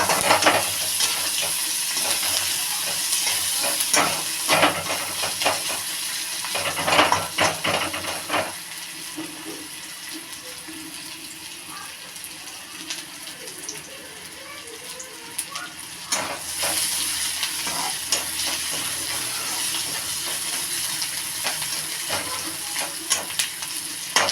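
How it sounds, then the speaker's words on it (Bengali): Chopped onions fry in a pan for a lentil and taro-leaf dish, giving a steady close sizzle broken by scraping stirs. Busier bursts of stirring come near the start and again around the middle, and no one speaks. "হ্যাঁ এবার পেঁয়াজটা আমার লাল লাল ভাজা হয়ে গেছে"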